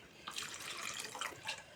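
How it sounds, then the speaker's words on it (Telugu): Water poured into a tamarind fish curry with tomato and brinjal: a soft, continuous splashing trickle, faint and close, with no talking. "దీంట్లోనే మనం కొంచెం వాటర్ కూడా పోసుకుందాం."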